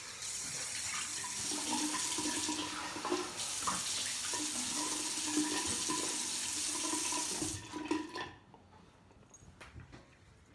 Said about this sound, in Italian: mi do un'altra sciacquata al viso